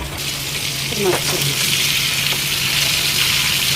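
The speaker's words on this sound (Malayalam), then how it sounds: "ഇനി ഫിഷ് ഫ്രൈ ആവട്ടെ" Pomfret fish frying tava-style in a pan makes a continuous close sizzle, with a few brief clinks or scrapes early on.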